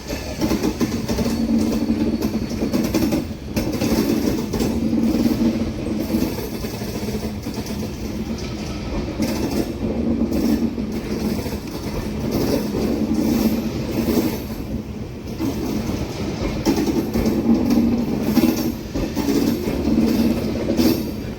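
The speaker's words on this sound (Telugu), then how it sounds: "మొత్తం కొత్త ట్రైన్" A new Amrit Bharat 2.0 Express on its inaugural run between Thiruvananthapuram and Charlapalli rumbles steadily, heard from on board, with a continuous low roar, rhythmic wheel clatter and occasional squeals, loud and unbroken with no talking.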